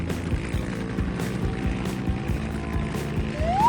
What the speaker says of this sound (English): Okay, I'll call in a helicopter.